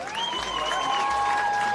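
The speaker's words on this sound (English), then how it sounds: "Let's have a round of applause for Emmy Miller." Audience applause in the stands at a high school football game during a homecoming court introduction, steady crowd clapping with a few light cheers, a tonal announcer or PA line humming over it.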